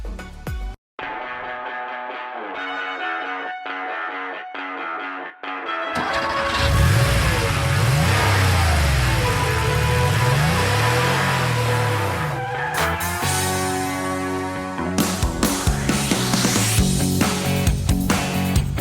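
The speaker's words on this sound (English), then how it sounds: "that is a 1972 Porsche 911 air-cooled engine that you hear in the start of our song" A 1972 Porsche 911 with an air-cooled engine, heard as a close, loud engine that revs and roars with tonal sweeps, set among music with sharp hits near the end.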